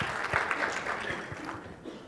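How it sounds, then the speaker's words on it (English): Audience applause after a technical presentation, a soft, continuous patter of many hands clapping, fairly faint and distant in a large room, with no speech over it. "Let's give a round of applause."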